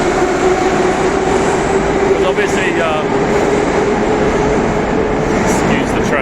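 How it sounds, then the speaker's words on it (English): A metro train rumbles steadily through an underground station in Minsk, Belarus, its loud continuous roar and hum filling the space while someone talks over it. "excuse the train"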